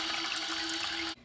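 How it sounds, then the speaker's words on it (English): Toilet tank water rushes out in a steady, close flush after the flapper chain is pulled, holding an even level before cutting off abruptly at the end. "If I pull, or if I was to flush, it'll start letting the water out."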